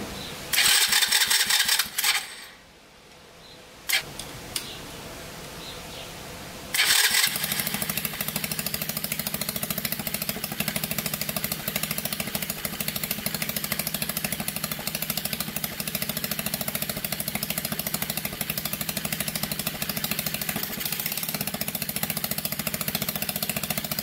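An old mini UTV that sat unused for years cranks and starts, then settles into a steady, continuous idle that runs unbroken close by.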